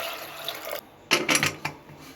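Water splashes and gurgles in short bursts, poured into a pot close by while making masala puri, with quiet pauses between pours.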